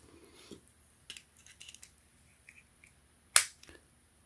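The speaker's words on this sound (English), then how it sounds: "And then you push the top in until you hear click." A sharp snap as the top part of a Philips bikini leg and body wet-and-dry shaver is pushed into place, one loud crisp click standing out from faint handling noises before it.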